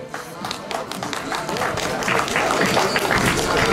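Clapping and crowd noise at a regional cycling tour team presentation in Burgenland, building from moderate to fuller as the riders are welcomed, with some background voices mixed in.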